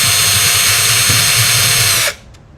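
A power drill drives a screw into a wooden birdfeeder, a loud steady whir for about two seconds that stops abruptly, with no talk.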